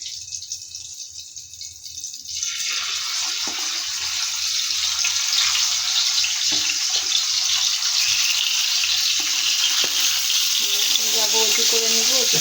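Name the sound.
frying eggplant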